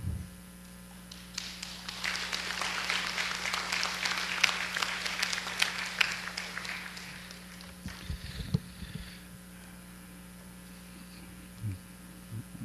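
Congregation applauding during a Sunday dedication worship service in a church, a broad steady wash of clapping that swells for several seconds and then fades away, with a low mains hum underneath.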